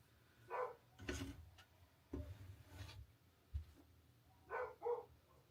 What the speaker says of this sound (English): And the sound of the barking dogs